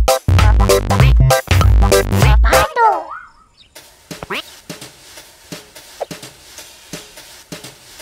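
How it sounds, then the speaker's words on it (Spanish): A cartoon duck from Pocoyo quacks in loud, bouncy bursts, followed by sliding cartoon squeaks and a string of lighter pops and clicks. "¿Alguien dice cuac?"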